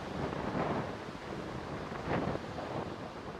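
Strong wind buffets the open air at Manchester Airport, a continuous rushing roar across the microphone that swells into two stronger gusts, with no one speaking.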